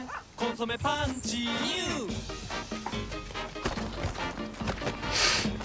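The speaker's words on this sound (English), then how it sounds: "That's not a real dog." A fake dog in a Japanese TV commercial barks and yips in short bursts among music and several people talking, with the barks loud and close in the mix.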